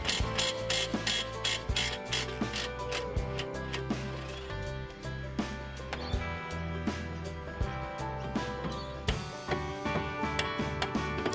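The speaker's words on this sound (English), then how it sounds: "these are all a 19mm socket that you'll need to undo most of the things on this side" A 19mm socket ratchet loosens suspension bolts on a Mitsubishi Pajero during a Dobinsons lift kit install, giving fast, dense pawl clicking in bursts with sharp metallic knocks, close and steady throughout.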